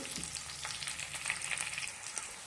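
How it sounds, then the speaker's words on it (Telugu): Green chillies frying in hot oil for a tamarind curry, a steady crackling sizzle close up with occasional stirring scrapes, no speech. "ఇప్పుడే నూనె పచ్చిమిర్చి వేసి బాగా మగ్గనివ్వాలి"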